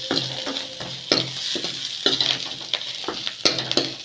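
Curry leaves and garlic fry in an urali clay pot until golden, sizzling softly with rhythmic spatula strokes scraping and tapping the pot every half second or so, close and clear.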